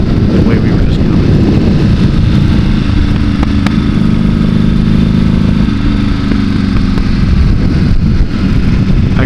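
Buell motorcycle engine on a warm-up lap of the Tail of the Dragon road in 2025, a loud close steady rumble with wind noise that rises and falls slightly through the ride.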